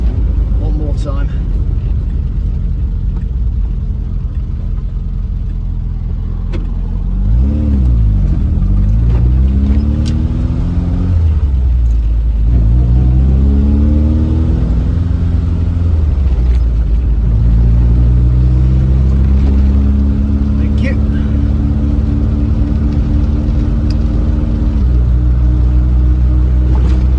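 A Triumph Spitfire classic car engine rumbles loudly and steadily, rising through several revs and falling back, with a continuous low drone throughout as the car is driven.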